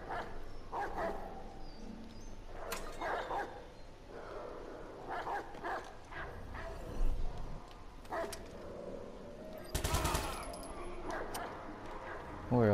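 A dog in the Watch Dogs 2 video game gives repeated barks and whimpering yips, scattered irregularly over a steady game soundscape. A louder burst comes near the end.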